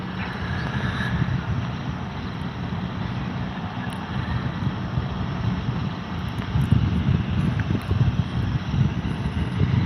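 A Caravan aircraft's engine drones steadily at an airport, a broad continuous rumble that swells slightly toward the end, with no talk over it.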